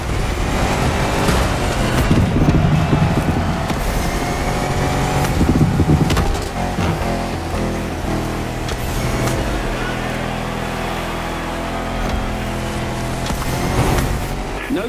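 A 4x4 off-road car roars through a jungle race in The Crew Motorfest, its engine droning steadily and loudly with shifting pitch.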